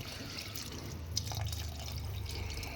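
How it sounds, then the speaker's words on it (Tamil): Water splashes and trickles into a pot of paneer biryani with rice, a close, fairly quiet pour with small drips over a few seconds. "1 சொம்பு தண்ணி ஊற்றணுங்க."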